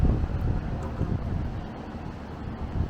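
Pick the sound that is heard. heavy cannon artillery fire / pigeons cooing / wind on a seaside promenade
wind on a seaside promenade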